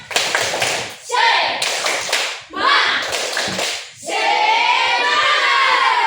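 A school class stands and performs a rhythmic spirit clap, loud, close bursts of patterned clapping broken by short pauses, ending in a sustained shout of young voices.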